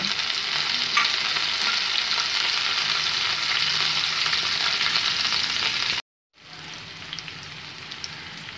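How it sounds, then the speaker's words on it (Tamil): An egg rice mixture is stirred in a hot pan, giving a steady, close sizzle with scraping movement that cuts out briefly before resuming. "இதையும் வந்து நல்லா கிளறி விட்டுக்கோங்க"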